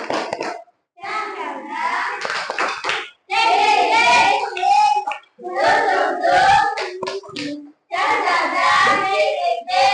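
Children in a classroom clap together in rhythmic bursts while chanting in unison. The claps and voices are loud and close, broken by short pauses.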